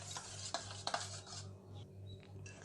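Sour curd stirred smooth in a mixing bowl, a few light clinks of a spoon against the bowl followed by soft rubbing strokes, close and quiet over a faint background hum.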